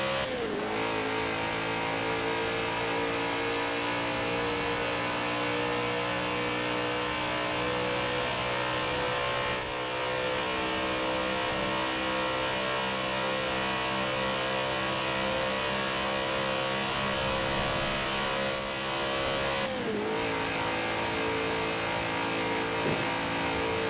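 A stock 2002 BMW M3-GTR in Forza Horizon 4 accelerates hard, its engine droning loudly and steadily. Brief dips mark slow gear changes roughly every ten seconds, and no one talks.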